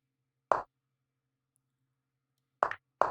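Three chess piece moves land in a Chess.com game, each a short, crisp wooden plop: one single move, then a long silence, then two quick ones close together.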